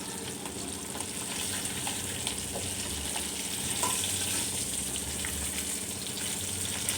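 Fish pieces fry in hot oil in a pan, a steady close crackling sizzle with tiny pops running evenly throughout, no voices.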